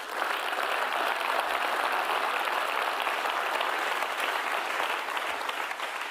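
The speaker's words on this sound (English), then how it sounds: "I think that deserves a round of applause." A crowd at a refugee-agency award ceremony gives a steady, even round of applause that holds at the same strength from start to finish, with no talk over it.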